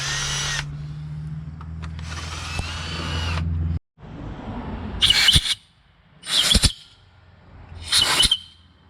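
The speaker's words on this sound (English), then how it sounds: "So we always end our tapping hole with" Power drill cutting a chamfer into a tapped bolt hole in a steel adapter plate for a Ford 5000 tractor diesel engine swap, heard as a steady whir, then a pause and three short, bright bursts of drilling close up.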